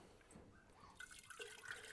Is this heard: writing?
no